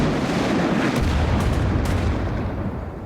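In a Roblox army video game, loud, booming gunfire and blasts roar continuously and close by, forming a dense wall of battle noise with no voices.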